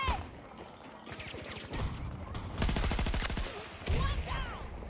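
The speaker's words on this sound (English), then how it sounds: "Throwing grenade." Grenade explosions and heavy gunfire in a Battlefield 2042 Rush match: repeated loud bursts and rattling automatic fire build to a booming blast around the middle and another near the end, with no one talking.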